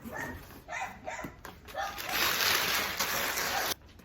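Excited dogs bark and yip in short bursts close by, mixed with splashy clatter and some rustling, then a longer noisy rush before it cuts off abruptly.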